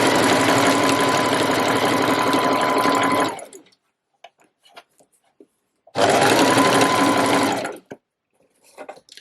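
A sewing machine stitches stretched elastic into trouser fabric in two loud, close bursts of rapid whirring, each lasting a few seconds and separated by quiet pauses with faint handling clicks.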